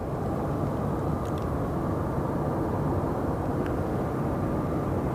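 An airliner taxiing on the ground at Sky Harbor Airport, a steady broadband rumble of jet engines at a distance, continuous and unchanging with no talk.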